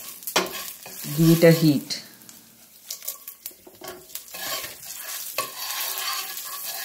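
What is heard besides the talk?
cumin seeds and dried red chili crackling in hot oil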